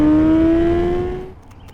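A car speeds along a highway, its engine note climbing steadily in pitch under acceleration before the loud drone fades away toward the end.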